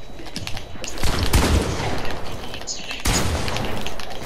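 Fortnite gunfire cracks in bursts, with heavy booms near the start and another loud volley around the three-second mark, mixed with rapid keyboard tapping and talk over the game audio.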